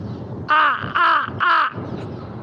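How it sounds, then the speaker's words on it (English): A crow outdoors caws three times in a loud, close, evenly spaced series, with no talking over it. "Look, there's one of my crow buddies."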